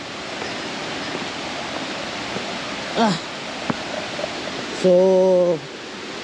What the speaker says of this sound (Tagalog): So ito yung falls mga tol oh.